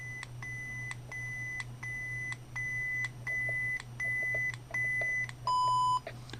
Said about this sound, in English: When you hear that tone, you're at full volume.